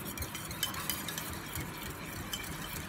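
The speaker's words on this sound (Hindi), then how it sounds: "इसको हम अच्छे से फेंट लेंगे। इसको थोड़ा सेट करने के लिए हम इसमें थोड़ा दूध डालेंगे।" Yogurt with a splash of milk is whisked in a bowl for raita, giving a steady, busy clinking and swishing that runs continuously at close range without pauses.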